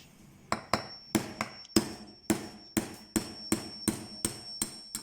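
Repeated sharp metallic hammer taps, about two per second, steady and close, with a faint ringing tone between strikes, as a hammer taps out a pin during a trigger and spring kit install.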